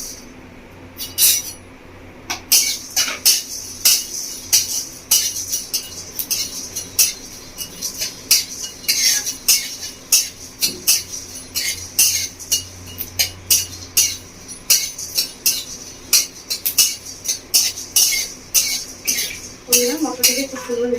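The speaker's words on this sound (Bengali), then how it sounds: "কিছু গোটা মশলা নিয়েছি, গোটা মশলাটা ভেজে নেবো শুকনো গুঁড়ায়।" Whole spices, fennel seeds, cinnamon, cloves, cardamom, mace, black pepper, shahi jeera and two dried red chillies, dry roasting in a pan for a village-style chicken curry, with steady rhythmic metal scraping and clinking as they are stirred, close and continuous.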